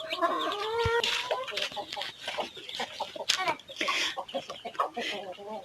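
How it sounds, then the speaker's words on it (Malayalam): A small flock of backyard chickens, including roosters, clucks and squawks close by in short, irregular bursts, while a person talks at times between the calls. "ഇതാണ് എൻ്റെ കോഴികൾ"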